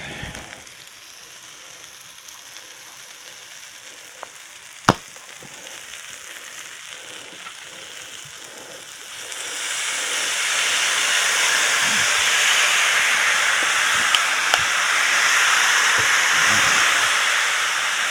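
Green papaya stir-fried with soy sauce in a pot: a soft hiss and light crackle at first, then a loud, steady steaming sizzle that swells and holds, with a few sharp clinks of utensils.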